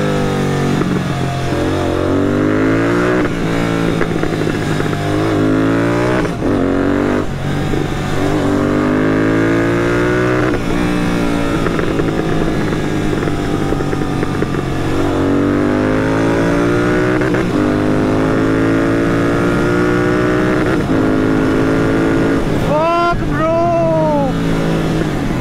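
A Royal Enfield GT 650 twin-cylinder motorcycle fitted with a BMC performance air filter and NGK spark plugs, accelerating hard under throttle: repeated loud rising engine pulls through the gears, each climbing then dropping at the shift, close and continuous.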